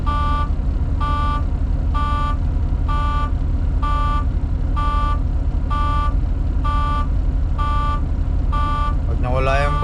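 Steady warning buzzer of a truck's low air pressure alarm during a pre-trip check with a major air leak, sounding in about ten regular evenly spaced pulses over a loud rumbling idling engine, with a brief hiss near the end.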